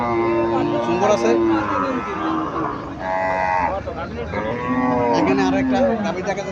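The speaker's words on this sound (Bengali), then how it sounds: "এখানে আরো একটা গাভী দেখা যাচ্ছে, দেশি গাভী, মুরব্বি নিয়ে আসছে।" Native cows moo repeatedly at the Chandimura cattle market in Barura, several long drawn-out calls rising and falling close by, with murmuring voices of the crowd in the background.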